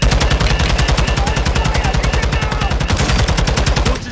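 Rapid automatic gunfire in Call of Duty: Modern Warfare 2, a loud, close, unbroken stream of evenly spaced shots lasting several seconds.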